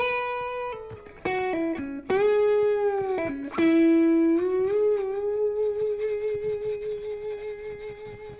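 A slow slide lick on electric guitar, fretting behind the slide, with sustained gliding notes swooping between pitches and a few plucked attacks, played alone at close range.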